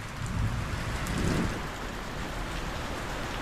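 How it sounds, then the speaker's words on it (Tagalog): Heavy rain pours steadily, a dense hiss of drops on surfaces with a low rumble underneath, no voices. "bumuhos na ng ulan tapos huminto"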